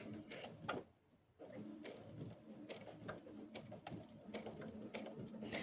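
A home sewing machine runs at its slowest speed, sewing quarter-inch bias tape binding in a soft, continuous rapid patter. A brief pause comes early, and nobody talks.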